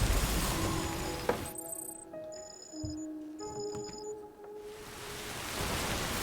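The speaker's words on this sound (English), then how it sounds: "It might be just constant rain." Steady rain in the video game Death Stranding, a constant hiss with faint ticks and tones on top and no talk.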